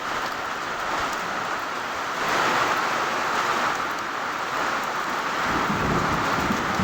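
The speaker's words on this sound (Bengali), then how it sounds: "আর বাতাস হচ্ছে অনেক, বৃষ্টির চেয়ে অনেক বেশি।" In a storm in Kurigram, Bangladesh, strong wind roars steadily with a light wash of rain, a continuous loud gusting rush that swells slightly midway, with no talking.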